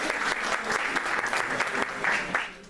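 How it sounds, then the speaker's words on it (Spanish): Studio audience applause welcoming a guest on a forensic psychology talk program, with brisk, continuous clapping that stays loud throughout and tails off at the end. "vamos a darle un aplauso porque nos estuvo también esperando"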